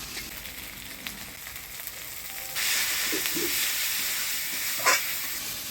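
Spice pastes of ginger, coriander-cumin, onion, garlic and dried chilli, along with turmeric and salt, sizzle in hot tempering oil with a steady hiss that grows louder midway, plus faint stirring clatter.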